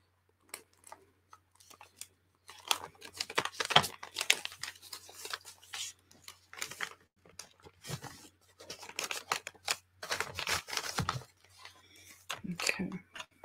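Paper and an envelope being folded and handled while assembling a nature journal, with close crinkles, rustles and soft taps in irregular bursts between quiet gaps.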